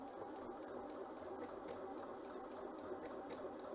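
A Janome C30 sewing machine runs steadily through a practice row on stitch pattern 12, giving a close, continuous whirring hum with a fast, even mechanical patter and no talk over it.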